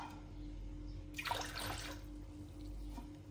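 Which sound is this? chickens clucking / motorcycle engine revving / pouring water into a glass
pouring water into a glass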